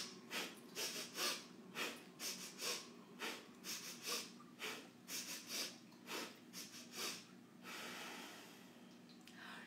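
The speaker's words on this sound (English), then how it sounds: "The fox breath is an energizing breath." Children do fox breath in a yoga session, taking rapid, sharp sniffs in through the nose in quick groups of three, each set followed by a longer exhale.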